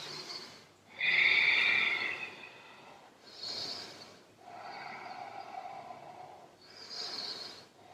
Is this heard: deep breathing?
yes